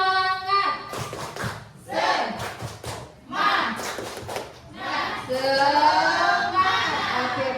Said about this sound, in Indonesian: tepuk semangat dulu ya. Tepuk semangat.